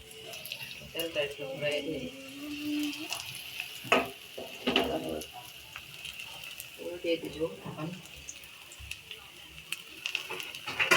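Chickpeas cooking in a pan in a village kitchen, a soft sizzle with intermittent stirring, while people talk over it throughout.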